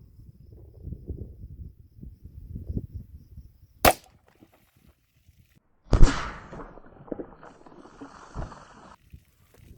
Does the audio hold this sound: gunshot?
yes